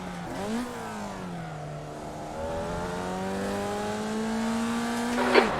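Formula Vee race car engine in the iRacing simulator at Laguna Seca, a steady buzzing drone that dips, then climbs gradually in pitch as the car accelerates, with a brief squeal near the end.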